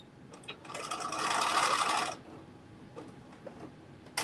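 Sewing machine running a top stitch on a dress, a steady close mechanical whir lasting over a second, with softer clicks and handling noises before and after.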